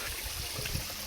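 Water flowing at Lungob Falls, a hidden forest waterfall running with a weak flow. It makes a steady, even rushing hiss throughout, with no voices.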